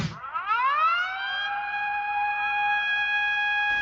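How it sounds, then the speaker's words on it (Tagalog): A tsunami warning siren sounds across a coastal area of Japan after a magnitude 7.7 earthquake: one loud wailing tone that rises quickly and then holds a long, steady pitch, with no voices. "Pinutunog ang mga sirena sa iba't ibang coastal area para balaan ang mga residente na lumikas."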